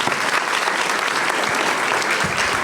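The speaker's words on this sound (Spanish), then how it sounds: "Quiero pedirles un fuerte aplauso para ellos" Audience at a Tijuana entrepreneurship event applauding two entrepreneurs, a dense, loud, continuous burst of clapping from a sizeable crowd, close and steady throughout.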